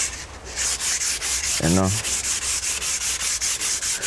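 Hand sanding of a carved wooden walking stick, a steady rhythmic rasp of strokes repeating about three times a second, close and continuous, with a single brief spoken word partway through.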